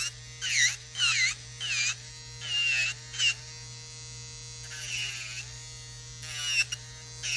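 An electric nail drill with a carbide bit files down acrylic nails, a close high-pitched whine rising and falling in short bursts as the bit touches and lifts, over a steady low hum.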